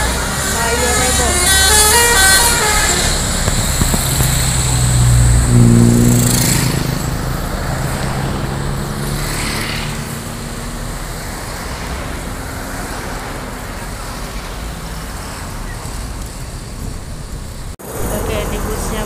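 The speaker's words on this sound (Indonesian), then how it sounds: "Oke, ini busnya mulai berjalan." A bus pulling away through busy Palembang traffic, loud engine rumble with road noise and occasional horn toots, a voice talking over it.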